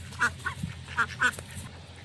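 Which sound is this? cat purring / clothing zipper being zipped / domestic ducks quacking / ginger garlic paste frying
domestic ducks quacking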